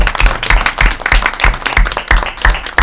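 A room of people at a Portland board of education meeting gives a round of applause for a retiring member, loud dense clapping with a steady rhythm throughout, no talk on top.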